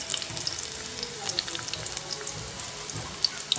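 Chopped onions frying in a pan give a steady, faint sizzle with light crackles and occasional soft stirring sounds.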